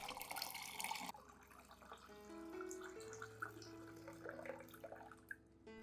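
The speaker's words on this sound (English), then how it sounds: "Add 500 milliliters of clean water at room temperature to dilute the solution." Clean room-temperature water poured to dilute a rice-water plant solution, a bright splashing pour in the first second, then fading into quieter trickles and drips under soft background music.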